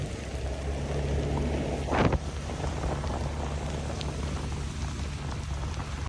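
Steady rain pours outdoors during a heavy downpour, a constant broadband hiss with one brief swooshing rush near the middle; no voices.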